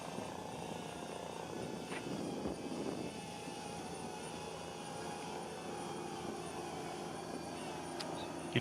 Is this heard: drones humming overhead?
yes